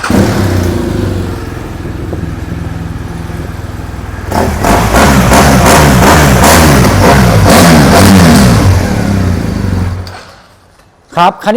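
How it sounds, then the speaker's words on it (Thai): A 2019 BMW R1200GSA TFT motorcycle engine idles steadily up close, then picks up into louder, throbbing revs for several seconds before cutting off abruptly near the end. "เดี๋ยวฟังเสียงเครื่องยนต์กันดูครับ"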